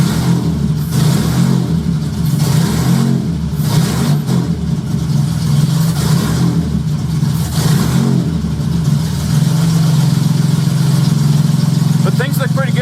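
A Honda J35 engine fitted in a Baja buggy is revved against a 2,000 rpm ignition cut, a loud close drone with repeated rising surges and cut-outs that continue throughout.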